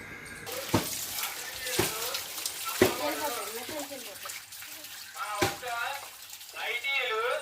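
Water is poured as a temple offering to Gangamma in Jalipudu village, West Godavari, splashing in soft bursts beneath people talking nearby.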